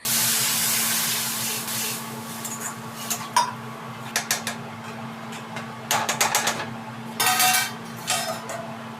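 A glass of water poured into a hot curry pan on a home stove, a loud rushing hiss at first, then scattered clinks of utensils and pan and short sputtering bursts.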